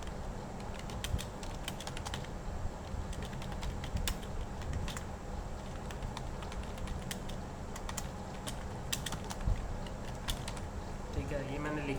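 Rapid computer keyboard typing with irregular clustered keystrokes, steady and close throughout, as a title is entered in a Microsoft Office document during a lesson.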